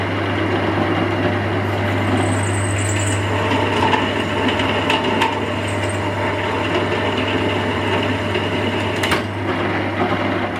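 A lubricated drill bit bores through thin-wall metal box section in a garage during a diesel heater installation: a steady, loud motor drone with a low hum and occasional scraping clicks as the bit cuts, with no voices.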